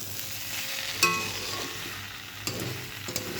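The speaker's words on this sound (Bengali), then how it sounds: "এভাবে কিছুক্ষণ আমরা নাড়াচাড়া করে নেব ঘুগনিটাকে" Quiet frying sizzle of ghugni in a pan with a few sharp scrapes and knocks of a spoon stirring, steady low hiss underneath.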